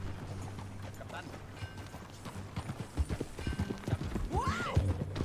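Horse hooves clip-clopping at a steady pace in the Red Dead Redemption 2 video game, moderately loud, mixed with a whinny near the end and voices talking over a low rumble.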